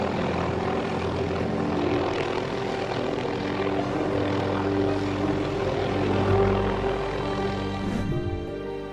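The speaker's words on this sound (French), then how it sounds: "pour sauver cette mouette coincée dans les lignes électriques, il a fallu tout un hélicoptère" A helicopter drones steadily overhead with a continuous rotor and engine hum during the rescue of a seagull caught in power lines, with faint voices in the background.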